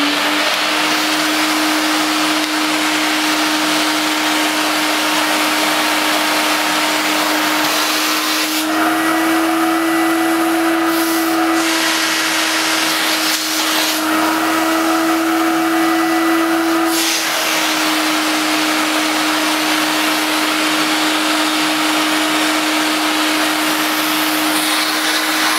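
Hoover Aquamaster S4470 carpet washer vacuum cleaner running steadily at close range, a loud continuous motor whine with a steady tone that shifts slightly in pitch midway, with no talking.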